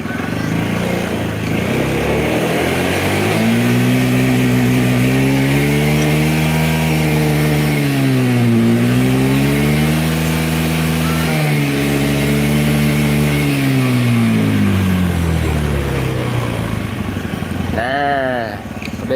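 A carbureted Honda motorcycle engine with a power-loss fault revs up and down, its pitch climbing, holding and falling in several smooth sweeps. It sounds loud and close and runs alone.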